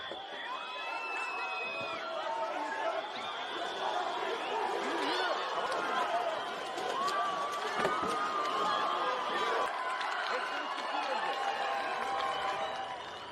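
A large crowd of angry student protesters surges against a line of riot police outside Istanbul University. Many voices shout and yell at once in a continuous, dense roar of overlapping cries that holds steady throughout.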